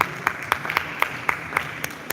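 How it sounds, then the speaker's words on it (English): Scattered claps from a small audience cheering male models on a runway walk, sharp separate hand claps at a steady, uneven rhythm rather than a full roar, moderately close. "why don't we give our boys a big round of applause"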